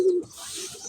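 Pet foreign beauty pigeons coo in a brief, close, soft throaty call.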